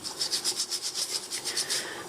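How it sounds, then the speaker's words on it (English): A green ormer abalone shell is scrubbed with quick, rhythmic back-and-forth strokes, about a dozen close, raspy brushing passes in steady succession. "scrub that foot good, scrub around anywhere where there's green showing"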